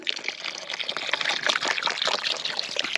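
Clean water is poured into a gold pan, splashing and trickling close up in uneven gushes for a few seconds, with no voices over it.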